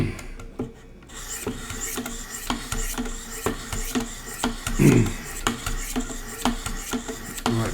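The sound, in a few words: knife sharpening on Wicked Edge Pro with 800 grit stones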